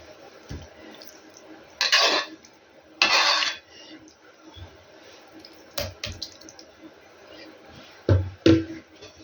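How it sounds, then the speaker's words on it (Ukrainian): A spoon scrapes and clinks against a pot, smoothing a pasta and cheese mixture in several short bursts, with soft taps and low background noise between them. "Можна гарненько так ложкою розрівняти тут"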